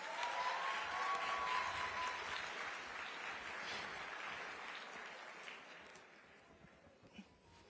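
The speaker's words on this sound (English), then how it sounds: "Let's give him a round of applause." An audience at a talk event applauds for several seconds, a dense, steady clatter of clapping that slowly fades toward the end.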